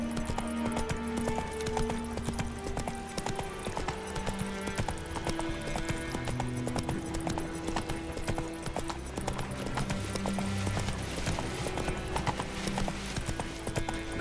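Roach the horse gallops in The Witcher 3 with steady, rapid clip-clopping hoofbeats close by, running continuously over in-game music and ambient effects.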